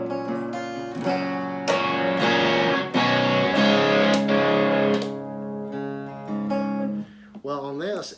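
A distorted electric hollowbody guitar on its bridge pickup strums a series of loud, sustained chords, then a voice briefly speaks at the end.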